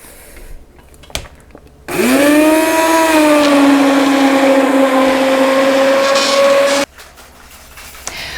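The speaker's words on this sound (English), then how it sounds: "This is an immersion blender. We're going to use it to puree our strawberries." An immersion blender purees strawberries for low-sugar jam, switching on with a loud rising whine that holds steady for about five seconds and then cuts off abruptly, with quiet kitchen clatter before and after.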